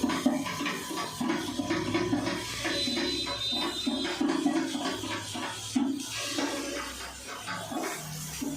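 Water flushes in a steady, dense rush with a churning, pulsing texture that holds at an even, moderately loud level for the whole stretch, close by and without talk.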